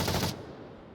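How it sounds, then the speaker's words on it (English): Gunfire in the VR shooter Onward, a loud, dense burst of rapid shots filling the first third of a second before cutting to a quieter tail with no talk. "Oxer's hearing those gunshots from the roof and turning and shooting immediately"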